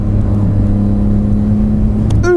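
A 2018 Triumph Speed Triple RS motorcycle engine holds a steady, loud drone while riding, then a quick-shifter gear change brings a brief jump in pitch near the end.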